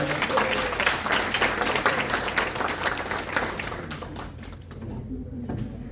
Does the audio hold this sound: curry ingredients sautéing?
no